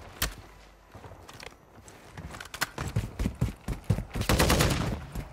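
Gunfire in Call of Duty MWII squad gameplay: scattered single shots early, building into dense rapid bursts and automatic volleys toward the end, loud and close with game effects around them.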